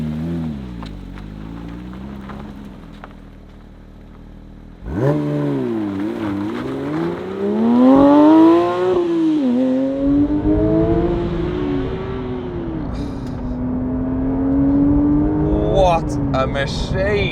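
A Porsche 911 992 GT3 with a manual gearbox drives on a road, its engine rising through the revs in long, loud sweeps with gear changes and a sustained high-pitched wail, close and dominant.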